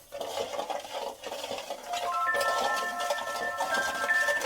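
Spoon stirring karadantu sweet syrup in a pot on a stove, a steady scraping and clinking against the metal, with a faint tonal hum rising in the second half.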